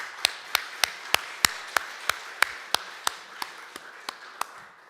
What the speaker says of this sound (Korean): 우리 서로 격려의 박수하면 좋겠습니다